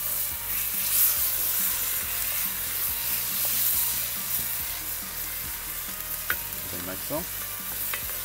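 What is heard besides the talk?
crushing tomatoes in sizzling pan on Weber grill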